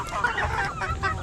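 Chickens cluck close by in a brief burst of overlapping, short clucks and chirps.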